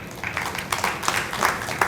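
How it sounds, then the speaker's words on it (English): Conference audience applause breaks out in a short, dense patter of claps that starts thin and swells, steady and moderately loud, with no voices over it. "I think this calls for another huge clapping."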